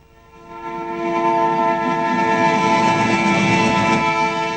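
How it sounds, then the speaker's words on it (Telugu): A train pulls into a station in a film scene, its horn sounding a sustained loud tone over rolling rail noise that swells after a quiet start and holds steady. "ట్రైన్ ఎప్పుడు వస్తుంది?"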